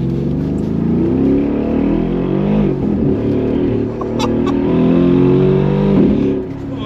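A Mercedes G700 Brabus engine revs hard in a loud, sustained roar, its pitch climbing and holding before dropping off briefly near the end.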